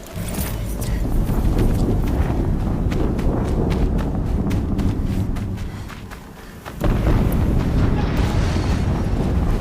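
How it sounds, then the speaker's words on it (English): A sustained, heavy rumbling explosion in Horizon Zero Dawn thunders on for several seconds, dips briefly, then surges again with crackling debris. "Another explosion."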